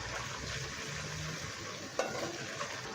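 Ginger garlic paste fries with browned onions in a quiet, steady sizzle, and one sharp utensil tap breaks through near the midpoint.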